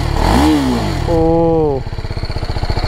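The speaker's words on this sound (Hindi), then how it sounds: "ये एग्जॉस्ट की साउंड सुनाओ सबसे पहले भाई" A BMW G310 RR motorcycle exhaust revs hard twice at full throttle in loud rising-and-falling bursts, then settles into a rapid, throbbing idle close by.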